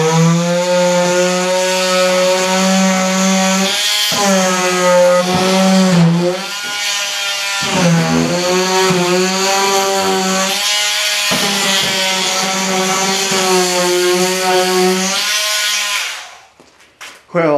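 A power sander runs on wood for a small wooden boat build, a loud, steady buzzing whine that rises and dips as pressure shifts, briefly easing off a few times before stopping near the end.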